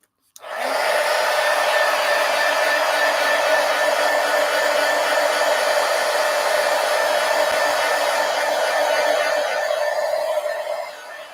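Hair dryer blowing steadily on a mixed media collage journal page, a loud continuous whoosh that starts abruptly and runs alone for about ten seconds before cutting off.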